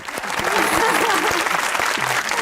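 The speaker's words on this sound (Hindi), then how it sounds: "आप भी तालियां बजाइए" A studio audience at a comedy talk show claps for a guest, dense, lively applause with voices and cheering mixed in, loud and close throughout the short burst.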